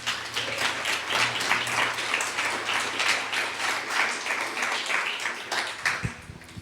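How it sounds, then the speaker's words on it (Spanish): Church congregation applauding God after the pastor's call, a dense, steady wash of many hands clapping throughout, loud and close, cutting off abruptly near the end. "dale otro fuerte aplauso a Dios"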